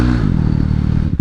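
A KTM 390 Duke motorcycle engine drones steadily at close range while being ridden, a brief thump sounding just at the end.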